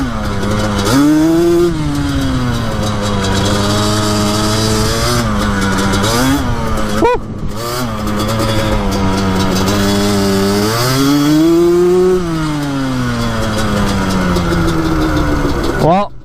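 A Yamaha Banshee quad's two-stroke engine revs hard during a ride, rising and falling in loud repeated surges through the gears, close and continuous.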